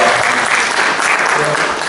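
Audience clapping at a convention panel with an actor, a dense, loud burst of applause filling the room while some voices and chatter mix in.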